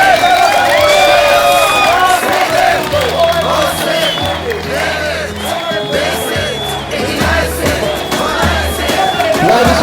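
Large crowd at a Bulgarian ceremony cheering, whooping and applauding loudly and continuously, with shouts and voices mixed through the din.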